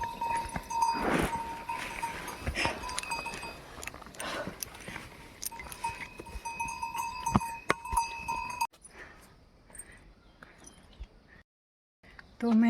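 Bullocks wearing bells are driven toward the fields with a plough, their bells clanking irregularly and close by over outdoor rural ambience, then fading to near silence.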